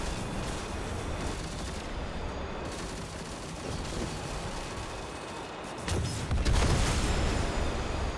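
The Arbalest fires in Destiny 2, heard as a dense, steady barrage of gunfire and booms in a busy firefight, swelling louder near the end.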